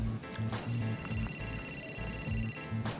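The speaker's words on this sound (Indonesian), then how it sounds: "Ntar Neng, ada telepon." A phone rings with a thin, high electronic tone held for about two seconds, heard indoors amid low background murmur and soft thumps.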